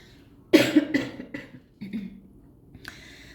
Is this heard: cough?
yes